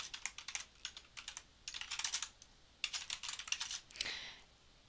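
Quick, light clattering of keys on a computer keyboard, typed in short bursts of rapid keystrokes separated by brief pauses, close and fairly quiet with no talking.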